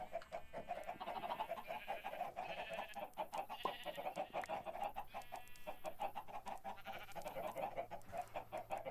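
Chickens cluck in the Ancient Kingdoms video game, a busy, continuous flock chatter of repeated short clucks at low volume with no talking over it.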